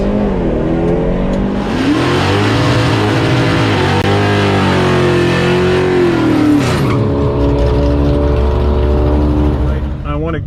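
A Monte Carlo SS on ET Street SS mini Thompson 275 mm tires drag racing, its engine roaring loud and close, rising in pitch through the gears, with crowd chatter and commentary over the top.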